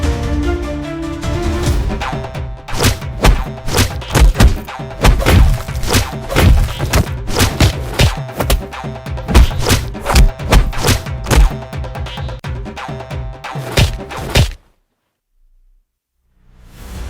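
A fight plays out as a rapid, irregular flurry of heavy punches and dull thuds, loud and close for about fourteen seconds before cutting to near silence.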